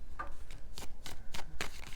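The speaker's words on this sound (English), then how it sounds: "I was shuffling in my hands." Tarot cards are shuffled by hand in a run of soft riffling bursts, each a brief papery rustle repeated every quarter to half second, close and clear with no talk.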